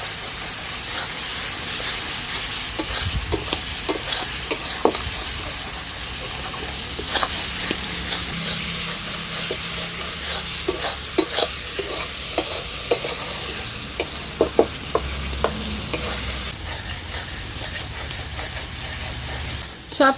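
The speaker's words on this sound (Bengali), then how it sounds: "জল দেওয়ার পরে মশলাটাকে আরও কিছুক্ষণ ভালোভাবে কষিয়ে নেব।" Rajma masala with a little water being stirred and fried in a pan, a steady close sizzle and hiss under repeated scraping strokes of a spoon, continuous throughout with no talking.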